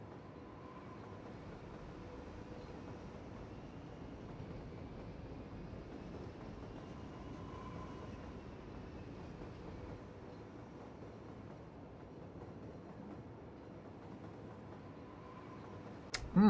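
Trains rumble along rail lines in the city-building game Cities: Skylines, a steady low rolling drone with faint tonal hums that carries on for about sixteen seconds, ending in a sharp click.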